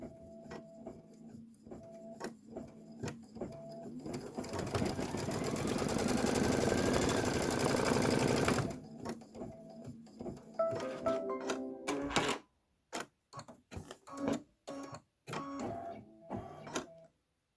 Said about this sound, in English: And let's do our placement stitch.